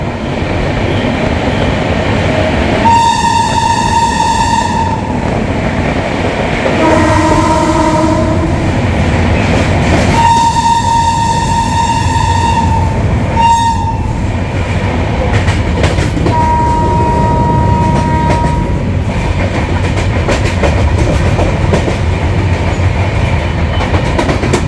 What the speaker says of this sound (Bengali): এটা যাচ্ছে ডাউন বালিয়া শিয়ালদা।